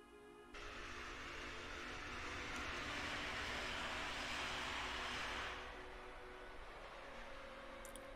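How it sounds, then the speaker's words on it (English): A train rumbles past in the Final Fantasy VII video game, a broad, steady roar that swells in after a moment, holds for several seconds and then eases off, with no one talking. "I like this train. It can only run where the track's been laid."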